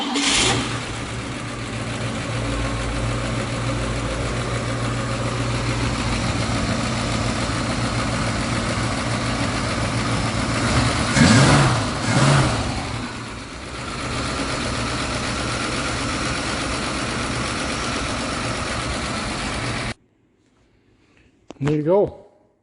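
A 1956 Pontiac V8 idling after a rocker stud repair, a steady, even engine drone held close and loud for about twenty seconds, with a brief surge in the middle, before it cuts off.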